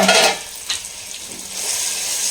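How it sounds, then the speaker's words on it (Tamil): Onions and tomato frying in a pan for a hotel-style chicken roast, with a steady close hiss of sizzling oil, a brief stirring scrape near the start and the sizzle swelling again toward the end. "ஆனியன் நல்லா ரோஸ்ட் ஆகிடுச்சு, டொமேட்டோ சேர்த்துக்கலாம்."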